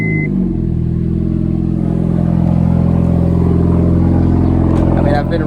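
Turbocharged Honda Civic with a straight pipe exhaust fires up on a cold start and settles into a loud, steady, deep idle close by, with light rain in the background.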